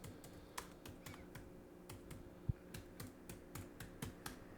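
Typing on a computer keyboard, a steady run of quiet, close key clicks in an irregular rhythm, with no voices.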